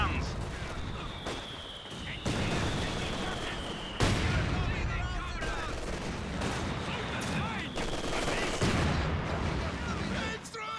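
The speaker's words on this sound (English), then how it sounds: "taking a lot of mortar fire" Mortar shells burst in a Company of Heroes 2 battle, a few heavy booms landing over constant gunfire and explosions, with a voice talking throughout.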